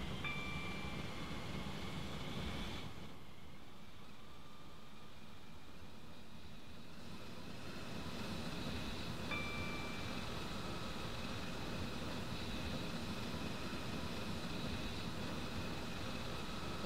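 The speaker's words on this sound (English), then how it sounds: "It's a high speed train" A steady rumbling roar of a high-speed train running at speed in the Roblox game Stepford County Railway, with a brief dip in the noise partway through and faint high whines.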